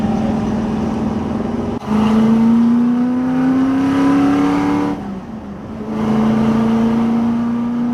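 A V8 Ford Falcon, a heavy car of about two tons, revs hard and pulls, its engine note climbing steadily through two long loud surges separated by a brief drop when the throttle lifts; close and dominant, no talk.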